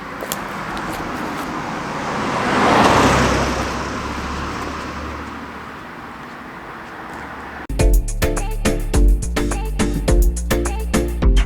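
A car passes along the road nearby, swelling to a broad whoosh and fading away, before rhythmic music takes over in the second half.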